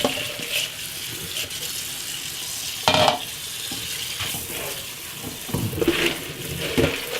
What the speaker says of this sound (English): What we're going to do now is give it a good rinse.